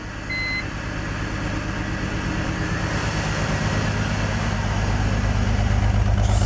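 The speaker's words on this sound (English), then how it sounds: "Got a nice rough idle there." A BMW E46 engine with a misfire idles roughly and steadily, a loud, uneven engine drone running the whole time with a faint electronic beep near the start and no talk.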